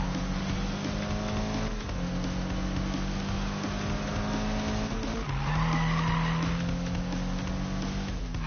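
Car drifting in the Need for Speed racing game, with sustained tire squeal and skidding over a steady engine drone, pitch shifting midway, continuous and fairly loud throughout.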